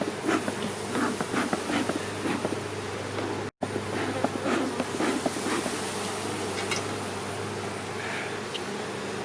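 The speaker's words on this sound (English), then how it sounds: "The bees are very not happy about this though. This is the most angry I've seen bees." Angry honeybees swarm around an opened hive, a dense steady buzz with individual bees zipping close past now and then, fairly faint overall and broken by a brief dropout partway through.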